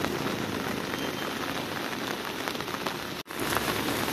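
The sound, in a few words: rain falling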